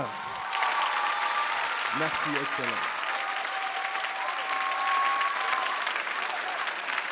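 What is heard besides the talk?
audience applause at a ceremony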